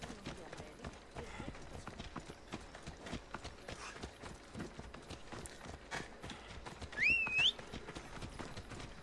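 Horse hooves clip-clopping at a steady trot in the video game Assassin's Creed Odyssey, a rapid rhythmic patter of hoofbeats with a short sharp whistle near the end and faint game ambience beneath.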